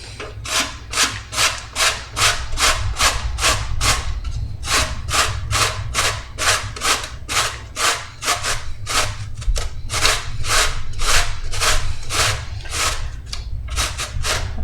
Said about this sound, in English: And now we can just grate the zucchini in.